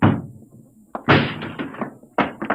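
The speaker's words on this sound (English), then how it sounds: "Break down the door." A door being broken down as a radio drama sound effect. Several heavy thuds and cracking bangs land in separated bursts, loud and close, with brief gaps between the blows.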